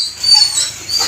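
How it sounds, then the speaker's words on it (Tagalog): A single dog gives a short, high bark or yip at close range, followed by a fainter second yelp. The sound is brief and clear, with no talking. "Mga aso."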